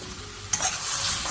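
Onions frying in oil on low heat, with a quiet hum that bursts into a bright, close, steady sizzle halfway through the brief moment.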